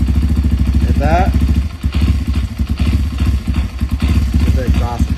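A Kawasaki KLX230 dirt bike engine idles steadily, its close, even putter continuing beneath someone talking, with a brief clatter partway through.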